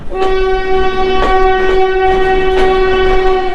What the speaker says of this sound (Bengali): এটা বেনাপোল এক্সপ্রেস এটা সকালে ছেড়ে এসেছে যশোর থেকে আর এখন এসে পৌঁছালো